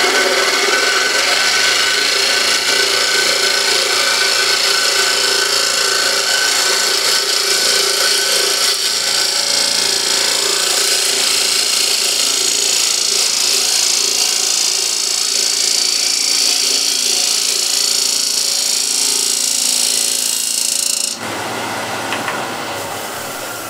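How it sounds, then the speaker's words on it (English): Continuous loud scraping of a spindle gouge cutting spinning wood on a lathe, a steady hissing rasp with whining tones that cuts off near the end. "Still using spindle gouge"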